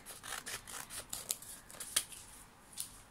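Scissors snipping open a K-pop photocard package, with a quick series of close, crisp cuts and rustles, fairly quiet and with no talk.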